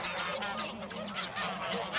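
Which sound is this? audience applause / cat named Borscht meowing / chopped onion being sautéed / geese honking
geese honking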